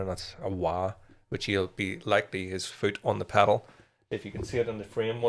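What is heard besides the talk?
No everyday noise stands out behind the speech.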